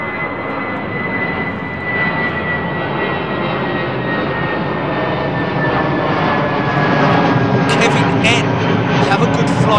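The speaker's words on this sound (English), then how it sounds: "looks like Air China's 350 about to depart" An Air China Airbus A350 departs Heathrow runway 09R, its jet engines producing a steady, loud broadband roar with a whining tone that slowly shifts in pitch throughout, with a voice briefly heard over it.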